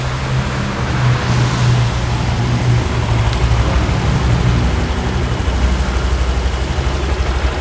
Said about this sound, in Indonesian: suara CVT-nya kita dengerin